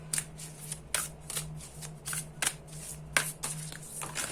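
Oracle cards shuffled and drawn by hand for a tarot-style reading, giving a series of crisp papery riffles and slaps at an irregular pace, close and fairly quiet over a low steady hum.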